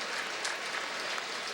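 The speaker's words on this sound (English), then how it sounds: "there's going to be a great round of applause for Jordan Sullen" A stadium crowd at the New Orleans Bowl football game between Tulane and Louisiana–Lafayette applauding for a player, a steady, even wash of clapping heard from a distance.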